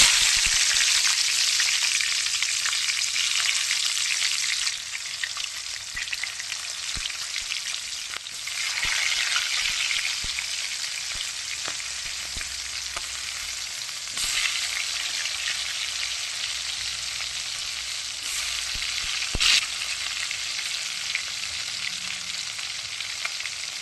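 Tomatoes and green chilies frying in oil, with a loud, unbroken sizzle and spatter close by for over twenty seconds, broken by occasional stirring clicks and no talking.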